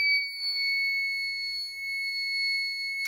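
A DIY breathalyser soldering kit emits a continuous, piercing high-pitched electronic beep, a steady squealing tone held for the whole stretch, close by and without speech.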